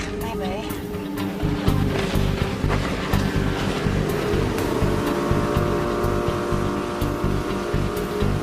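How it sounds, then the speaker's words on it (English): A motorboat engine drones steadily and loudly throughout, with water noise and voices talking over it. "Yeah, that's Murphy's boat, all right"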